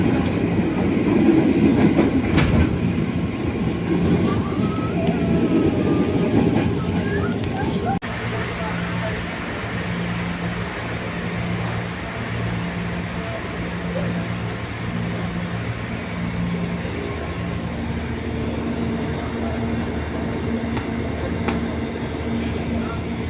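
Indonesian KRL commuter train riding on rails, a steady low rumble of wheels with a rhythmic pulsing clatter; louder, busier noise early on, then a smoother ride.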